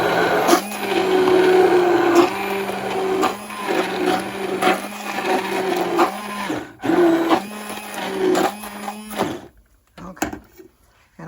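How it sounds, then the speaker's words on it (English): A kitchen blender whirs in bursts while blending broccoli cheese soup, with loud motor runs broken by short pauses and clunks, then the whirring stops and leaves a quiet tail. "I'm going to blend some of this so that it's smooth, but then I'm going to leave some chunky"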